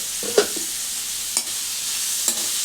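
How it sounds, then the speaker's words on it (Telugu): Cluster beans fry in a pan under a steady soft sizzle, with three brief stirring scrapes spaced about a second apart and no talking. "ఇది మంచిగా ఫ్రై కావాలి."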